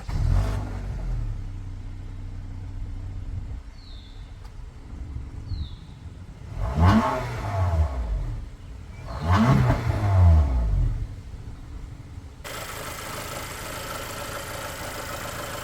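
A high-mileage 2013 Honda Accord engine with valve train noise, idling close with a ticking clatter and two strong revs that rise and fall, then settling back to a steady idle.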